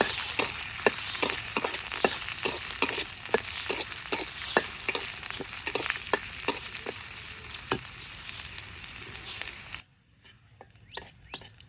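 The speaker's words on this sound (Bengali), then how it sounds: "পেঁয়াজ রসুন ভাজা হয়েছে নামিয়ে নেই" Onion and garlic fry in a pan with a steady sizzle and repeated scrapes of stirring, close and busy, before the sizzle drops away sharply near the end.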